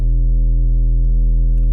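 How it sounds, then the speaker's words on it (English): Sub bass synth preset from Massive holding one steady, deep, pure low note, loud and sustained without variation or other sounds. "for the bass, it's just a sub bass."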